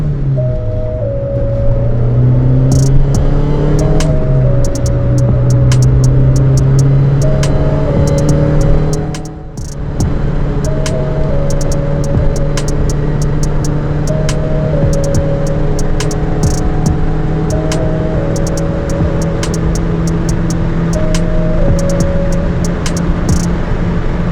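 Rover 114 GTI with a Lotus K-series engine revving hard between 3000 and 5000 rpm, climbing through repeated pulls with brief drops at shifts, loud and close throughout, one deep dip midway, no voices.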